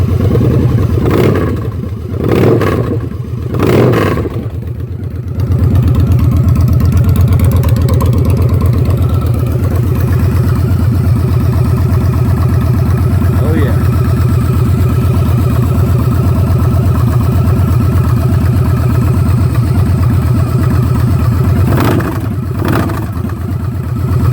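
A 2015 Victory Hammer 8-Ball motorcycle with a homemade K&N air filter kit idles loud and close, a steady deep engine rumble that holds for the whole stretch, with a few brief bursts near the start and end.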